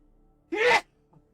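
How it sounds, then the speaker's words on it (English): A single sharp sneeze bursts out in an otherwise quiet room, followed by a faint breathy sound. "I need to sneeze"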